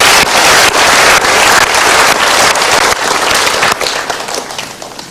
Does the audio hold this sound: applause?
yes